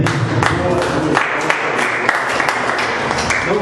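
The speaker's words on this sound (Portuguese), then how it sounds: "E que as palmas louvem a Deus." A church congregation claps together in a dense, continuous burst of applause, close and loud, with scattered individual claps standing out.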